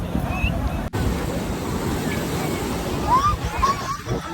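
Ocean surf washes steadily onto a crowded beach at Puri, Orissa, a broad continuous roar with wind noise on the microphone, while voices and chatter carry faintly over the waves.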